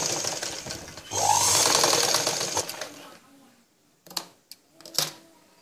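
A sewing machine runs a brief burst of stitching on blouse darts, loud and close with a steady motor whir, then stops and leaves a few scattered clicks and handling knocks.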